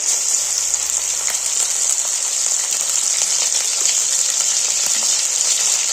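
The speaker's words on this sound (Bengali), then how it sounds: "সামান্য একটু আদা বাটা দিয়ে দিলাম" Ground spices and ginger paste fry in a pan for a crisp khasta snack, producing an even, loud, unbroken sizzle with faint crackles throughout.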